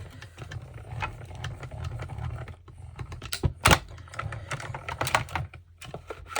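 A Stampin' Up! mini die-cutting machine is hand-cranked through a craft project, giving irregular clicks and ticks over a low, steady rumble at moderate level. No one speaks.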